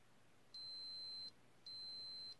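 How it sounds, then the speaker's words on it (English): A multimeter in continuity mode tests a JAMMA arcade harness wire and gives two steady electronic beeps, each about three-quarters of a second long with a short gap between them, clear and alone over a faint hiss. "we should get a beep to say, hey, you know what, that's continuous and that works"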